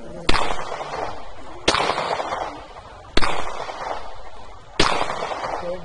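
Four sharp .40 caliber gunshots are fired into PowerFilm foldable solar panels outdoors, evenly spaced about a second and a half apart, each a loud crack followed by a short decaying echo.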